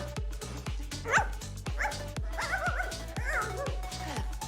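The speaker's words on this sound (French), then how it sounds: "Le chien." A dog barks repeatedly in quick, regular bursts, mixed with a few higher yips and whimpers, fairly close.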